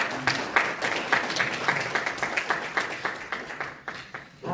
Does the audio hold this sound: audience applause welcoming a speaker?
yes